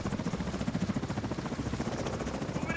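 Helicopter in a shooter video game, a steady rapid rotor thump with engine whine running continuously and fairly loud, no talking.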